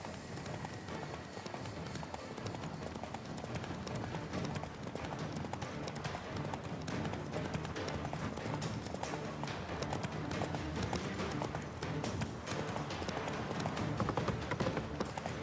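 A horse gallops in The Witcher 3 with fast, steady hoofbeats running throughout at a consistent, moderately loud level. Game ambience sits underneath, with some background voices.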